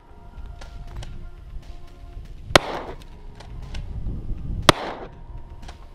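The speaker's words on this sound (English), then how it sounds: "That was 3 rounds of 1 ounce slugs out of a 12 gauge Kel-Tec KSG at 30 yards" A 12 gauge Kel-Tec KSG fires 1 ounce slugs at an AR500 armor plate 30 yards away. Two sharp, distant bangs are clearly audible against quiet outdoor background noise, with no talking.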